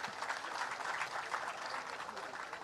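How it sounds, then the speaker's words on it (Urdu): An audience at a formal ceremony applauds, dense steady clapping from many hands filling the room throughout, with no pauses. "بہت ساری تالیاں بھائی"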